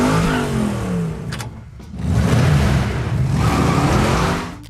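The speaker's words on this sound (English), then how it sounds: "The engine sound was artificially enhanced for maximum aggression." A 1971 Chevy Nova engine with an artificially enhanced exhaust note revs loudly and aggressively, surging twice in close, full-bodied bursts.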